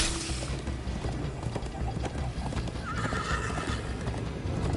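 Horse in the video game Minecraft Story Mode galloping during a chase, with rapid clip-clop hoofbeats and a whinny over busy game background sound.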